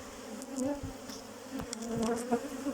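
Bees buzz around a beehive colony, a close, continuous droning hum with individual insects passing near and away.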